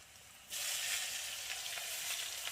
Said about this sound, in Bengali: আলুগুলোকে একটু লাল লাল করে আমি ভেজে নিচ্ছি